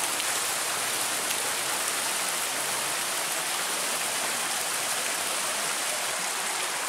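Waterfall at Curug Tarung in Temanggung, Central Java, in the dry season, a steady loud broadband roar of rushing water that holds unchanged throughout with no distinct events.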